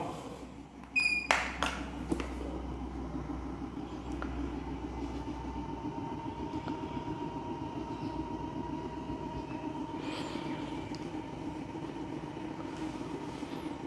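A Revolution weight loss vibration machine runs at speed with a low, steady mechanical hum and a fast rhythmic buzz. Faint clicks and handling knocks come near the start.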